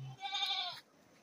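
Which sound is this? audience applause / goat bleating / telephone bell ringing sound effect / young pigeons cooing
goat bleating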